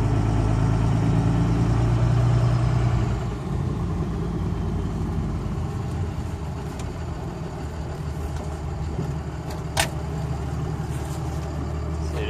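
A 2003–04 Cummins diesel truck engine idles on a 12 valve tune, a steady, loud low rumble that holds evenly throughout, with one brief tick partway through.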